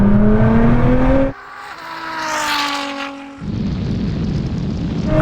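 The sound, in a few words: Ferrari SF90 and 1000 hp Nissan GTR accelerating in rolling race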